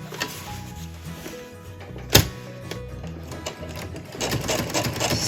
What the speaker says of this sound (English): Stitch along that edge.